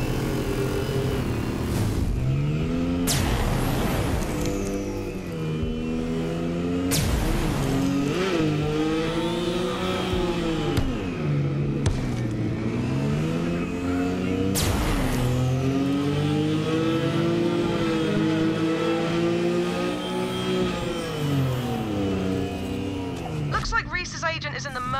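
A car engine in Borderlands 3 drones and revs in rising and falling sweeps, loud and close throughout, with sharp transient bangs at intervals and voices talking over it.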